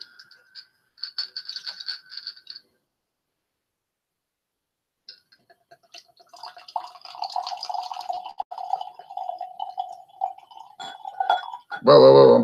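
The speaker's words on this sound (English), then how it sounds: "Whoa, I'm pouring it all out." Whisky glugs and trickles out of a bottle after a few faint clinks and a long silence, the pour starting midway and continuing unevenly before a final loud burst.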